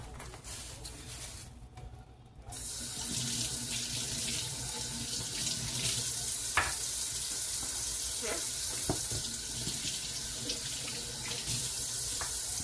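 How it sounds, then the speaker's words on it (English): Tap water runs steadily into a sink as ribeye steaks are rinsed under it, a continuous close splashing hiss with a brief break early on and a few small clunks. "I got these beautiful steaks, and they are ribeyes. And I am going to rinse them."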